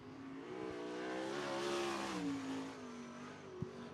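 A 360 sprint car runs a qualifying lap at Cottage Grove Speedway, its engine snarling and rising in pitch as it swells nearby and then fades off, with a faint thump near the end.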